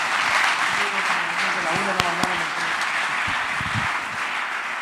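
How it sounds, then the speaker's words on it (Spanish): A church congregation breaks into applause, a steady wash of clapping heard together with raised voices calling out and a few sharp claps standing out near the middle. "Un aplauso a Dios."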